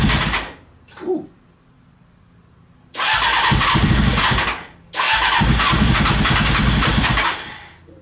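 A Honda CBR 600 reverse trike engine with a bad head gasket is cranked, catches, revs loudly for about two seconds and cuts out, then starts again and runs roughly for a couple of seconds more. Both bursts are close and loud.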